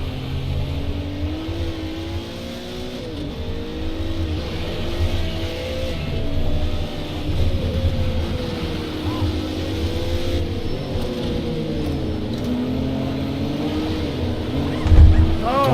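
A race car on a track day circuit spins out in second gear, its engine wailing and wavering in pitch as the revs flare up and down. Loud, continuous engine drone ends in a brief sharp burst.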